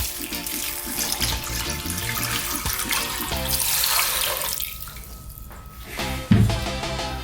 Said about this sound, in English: We're going to cover this with water.